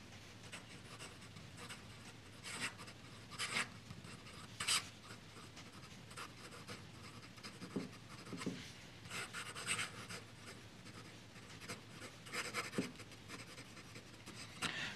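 A fountain pen loaded with Herbin Bleu de Minuit ink scratches across paper in close, irregular strokes, with soft scraping bursts and pauses between words.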